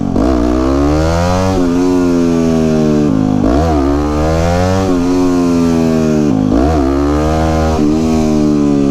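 A supermoto motorcycle engine revs hard and continuously, climbing and dropping in pitch through repeated throttle blips and gear changes, loud and close with no talking.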